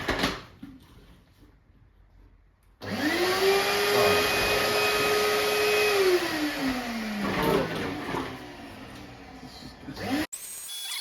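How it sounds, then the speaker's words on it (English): A vacuum cleaner hoovers the engine bay of a 1972 Aston Martin V8, its steady loud whine starting abruptly, holding, then sliding down in pitch before cutting off; low talk underneath. "let's hoover it now before we get any further"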